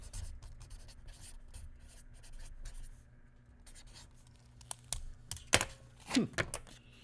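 A pen scratches across paper as a ticket is written out by hand, soft strokes and scribbles up close, ending with a few louder taps and rubs.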